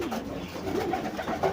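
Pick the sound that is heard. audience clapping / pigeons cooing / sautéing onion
pigeons cooing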